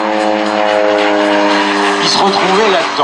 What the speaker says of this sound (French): le Bronco, c'est quoi? C'est un avion absolument phénoménal et fabuleux à faire voler.